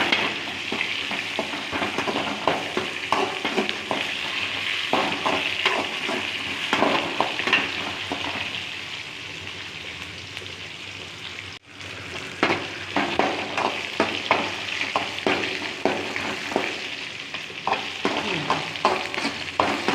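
Onion and curry leaves sauté in oil in a pan for Tamil mustard curry (kadugu kuzhambu), giving a continuous close sizzle with steady stirring scrapes. There is a brief break midway before the frying resumes, and no one speaks.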